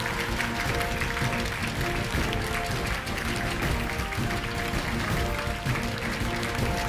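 A large audience at the 2025 IJSO international science olympiad opening ceremony gives loud, sustained applause. The even wash of clapping fills the hall for nearly seven seconds, with faint tonal music underneath.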